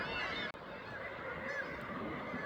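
A seabird colony calling from the nesting ledges of the Wick on Skomer's cliffs, a dense, continuous chorus of overlapping honking cries, moderately distant, with one sharp break.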